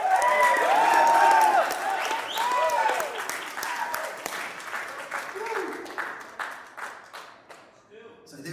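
A crowd at a boxing press conference for Opetaia and Nyika applauds loudly and steadily, the clapping thinning out over several seconds as voices call out and talk over it.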